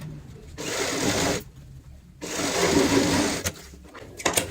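A sewing machine stitches fabric onto a stool made from an old bucket, running in two steady bursts of close, loud whirring separated by a short pause, with a few clicks at the end.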